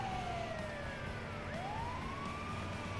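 Ambulance siren in the Transport Tycoon video game, a steady wailing tone sweeping down then back up, continuous and fairly faint against a constant engine rumble, with no talking.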